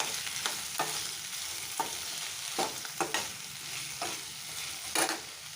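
Tenli with black chana and onions frying in oil in a pan, stirred by hand: a constant close sizzle broken by irregular scraping strokes of the spoon, about half a dozen sharper scrapes spread through.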